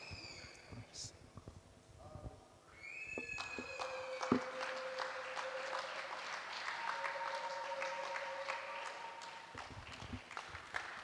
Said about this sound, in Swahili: Tuongeze makofi tena kwa Mungu wetu kwa somo zuri sana